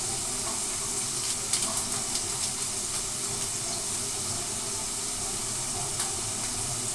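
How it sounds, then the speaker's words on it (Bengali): Turmeric, cumin and chilli powder frying in a pan give a steady, close sizzle and hiss throughout, with a few faint clicks of stirring and no talking. "দিয়ে দিচ্ছি হলুদ গুঁড়ো, জিরের গুঁড়ো, দিয়ে দিচ্ছি"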